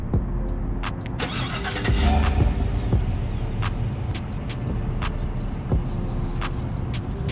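Chevy Silverado Trail Boss Custom pickup cold-starting, a brief cranking surge that settles into a loud, steady, fairly quiet-exhaust idle heard up close, with scattered sharp clicks over the rumble.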